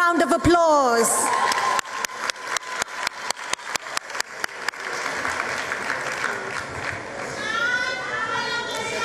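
An audience at a 2023 matric results awards ceremony applauds a school prize winner, with dense clapping, excited cheers and crowd noise at the start giving way to a steady roar of applause.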